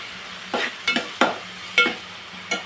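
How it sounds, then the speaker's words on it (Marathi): Chopped tomatoes go into a pan of frying onion masala, giving a few separate bursts of sizzle and stirring scrapes over a low background hiss. "आता मी टॅमॅटो टाकते."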